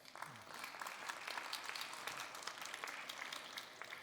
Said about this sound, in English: Let's welcome them with a warm applause